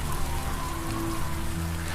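Rain falls steadily on a field as a story sound effect, a dense, even hiss that runs for two seconds under a low, steady hum.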